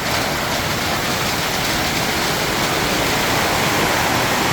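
Heavy storm rain pounds a punctured tin roof, a dense, steady roar of drumming water that stays loud and unbroken throughout, with no voices.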